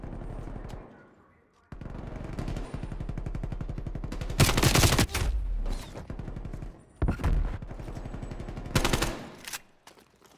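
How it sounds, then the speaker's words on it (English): Rapid automatic gunfire crackles in Call of Duty, bursts of shots with sharp impacts as bullets strike a barrier, loud and repeated in several volleys separated by short pauses, with a voice talking in between. "Fucking every time bullets are hitting the visible barrier."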